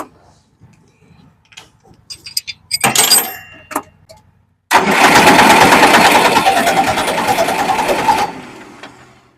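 A few clanks and knocks, then a Kentavr 404 tractor engine cranks loudly and runs roughly for a few seconds before cutting out.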